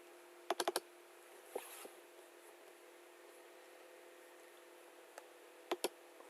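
Computer keyboard keys tapped while setting up Hyper-V Manager on a Nano Server, a few quick clustered clicks near the start and end with quiet gaps between, close and fairly faint.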